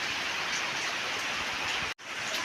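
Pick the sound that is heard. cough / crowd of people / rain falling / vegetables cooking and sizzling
rain falling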